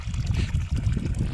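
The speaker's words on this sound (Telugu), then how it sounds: "దాని పక్కనే ఇవి వాటర్ అన్నమాట, ఇలా పడుతున్నాయి పైపు నుంచి" Water spills from a pipe into a farm field, a continuous close gurgling and splashing flow with a slightly uneven churn and no voices.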